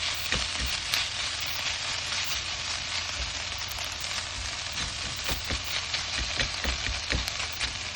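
Steady sizzling as bukhayo, a coconut sweet cooked with sugar, fries in a pan while being stirred, with continuous bubbling hiss and occasional scraping clicks, close and loud with no talking.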